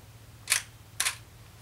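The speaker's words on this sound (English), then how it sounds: "as you probably heard there, the shutter was kept open for much longer" A DSLR camera shutter set to a long exposure gives two distinct clicks about half a second apart, the shutter opening and then closing, close and crisp in a quiet room.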